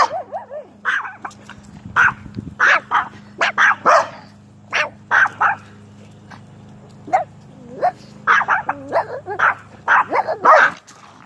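Dogs barking, yipping and whimpering in short bursts at close range, loud and repeated over about eleven seconds, with a steady low hum underneath.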